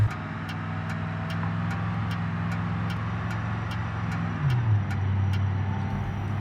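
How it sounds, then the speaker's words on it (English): A steady, low engine drone from an old tow truck idling and cruising on light throttle in BeamNG.drive, with a faint regular ticking on top and a brief pitch shift near the end. "I'm really going easy on the throttle here in this old tow truck"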